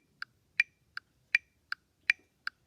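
Metronome set to 80 beats per minute, sharp isolated clicks alternating between a higher accented tone and a softer one, close and clear over a quiet background.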